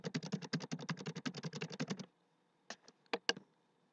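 Rapid, steady keystrokes on a computer keyboard while entering values into a spreadsheet, a dense two-second burst of close clicks followed by a pause and a few isolated taps.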